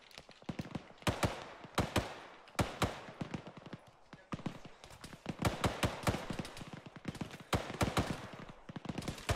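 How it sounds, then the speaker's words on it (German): Gunfire in the ArmA 3 video game during a team-versus-team match, rapid sharp shots cracking in irregular bursts and volleys, some near and loud, others softer, with faint voices underneath. "Starke Schüsse"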